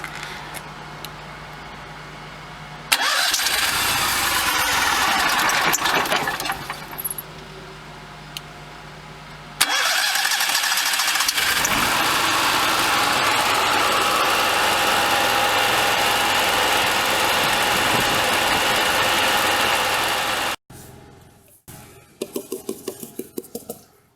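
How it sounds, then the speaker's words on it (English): A Jayco Pinnacle RV's onboard generator starts up and runs with a loud, steady engine drone that lasts for many seconds, then cuts out, followed by scattered clanks and rattles. "now what we're going to do is just run the generator for a little bit"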